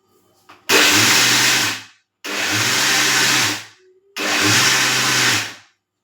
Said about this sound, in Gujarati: હવે મિક્સરમાં છે ત્યાંનો પાવડર તૈયાર કરી લેશું